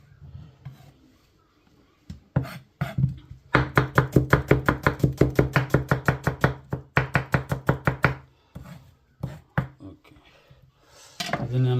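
Onion being chopped into small square pieces, a rapid, steady run of crisp knife strikes against a board that come in long rhythmic bursts, separated by brief pauses and a few slower single cuts, up close.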